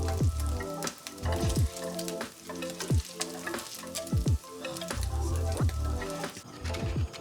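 Eggs frying in a hot pan for chilaquiles, a bright continuous sizzle with crackling pops and occasional utensil scrapes and stirring, close and steady throughout.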